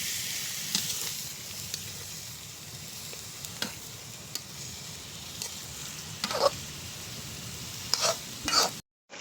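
Duck adobo sizzles steadily in a pan while it is stirred, a close, continuous frying hiss broken by scraping and clattering knocks of the utensil, several louder toward the end before a sudden cutoff.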